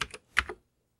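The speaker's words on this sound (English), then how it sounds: "instead of just typing run." A few quick keystrokes on a Commodore 64 keyboard, close and crisp, a short burst of clicks followed by silence.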